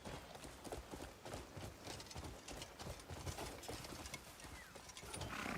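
Horse hooves clip-clop in the Crimson Desert video game, a quiet, steady trotting rhythm of repeated hoof strikes against a soft game ambience.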